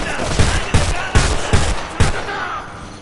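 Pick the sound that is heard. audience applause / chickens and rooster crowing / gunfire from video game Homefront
gunfire from video game Homefront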